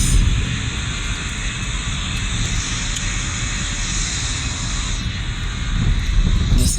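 A jet airliner engine roars in reverse thrust inside the PTFS flight simulator game, a loud, dense, continuous rumble with a hissing top that holds steady throughout.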